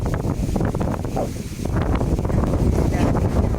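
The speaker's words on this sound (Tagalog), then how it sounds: "Hangin, no? Sarap naman pala dito. Woo! Hangin. Mahangin." Wind gusts buffet the microphone in a loud, continuous rumbling roar outdoors.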